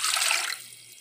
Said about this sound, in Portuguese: Na panela, em fogo médio,